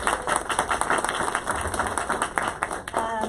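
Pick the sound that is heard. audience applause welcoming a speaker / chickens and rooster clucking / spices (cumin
audience applause welcoming a speaker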